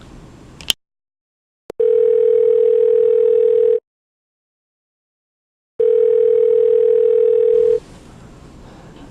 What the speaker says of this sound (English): a phone rings.